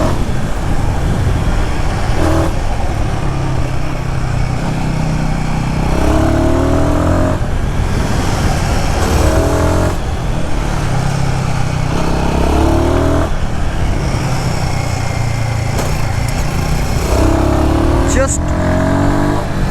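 Royal Enfield Guerrilla Apex 450 motorcycle engine thrums and revs while riding, its pitch rising and falling repeatedly through gear changes, with wind rush and someone talking over it throughout.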